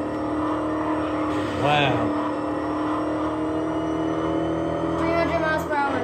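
Race car engine in Gear Club Unlimited 2 on Nintendo Switch, a steady loud motor drone held under a brief spoken exclamation.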